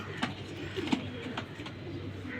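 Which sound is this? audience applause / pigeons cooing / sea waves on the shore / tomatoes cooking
pigeons cooing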